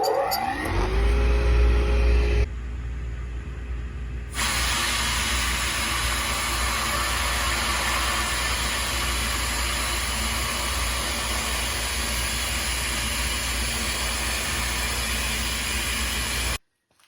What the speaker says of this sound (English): All right, first panel blasted.